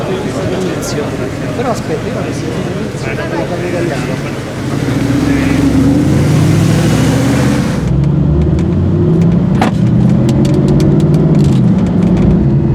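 A Mercedes SLS AMG race car rolls out of the pit lane at Abu Dhabi. Its engine rumbles loud and steady from inside the car, with someone talking over it throughout.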